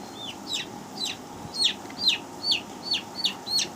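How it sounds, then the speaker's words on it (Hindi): A young chick caught by hand on a poultry farm for eye-drop vaccination, giving a string of about eight loud, evenly spaced distress peeps, close by over a low barn murmur. "ये हमने चूजे को पकड़ लिया"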